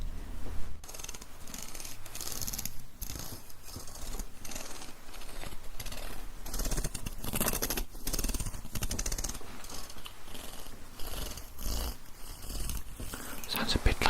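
A very large-toothed comb is dragged in continuous close-up rasping strokes for ASMR, giving a rough, rhythmic rumble much like a cat's purr.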